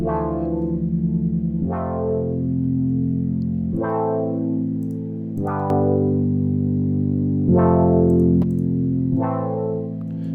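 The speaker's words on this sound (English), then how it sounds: "Chorus is a really, really, I think, like underrated effect on sounds like this" Sustained synth chords from Serum with a shimmering, wavering chorus effect, changing every couple of seconds, loud and alone with no talking.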